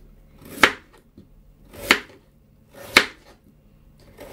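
A knife chops through cut potatoes for chicken curry, three sharp, separate strikes on a board about a second apart, close and clear in a quiet kitchen.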